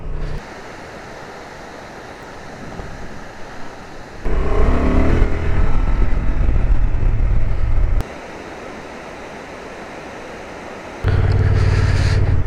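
A Honda XL750 Transalp motorcycle rides on light gravel off-road. Loud wind and engine roar come in bursts, with the noise jumping between a steady lower level and louder stretches as the ride goes on.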